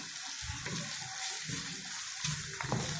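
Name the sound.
goat meat frying in a pan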